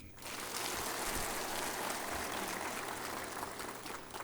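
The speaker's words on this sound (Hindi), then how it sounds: "कृपया जोरदार तालियों से हमारे परिवारगण का स्वागत करें।" Applause for families at an Assam Rifles honour ceremony for retiring personnel, a soft, distant, steady wash of clapping from a large crowd that swells in and holds without voices.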